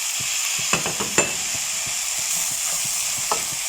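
A spoon stirs pumpkin, carrots, potato, zucchini and tomatoes in a cooking pot over steady sizzling, with soft scraping taps against the pot and no talking.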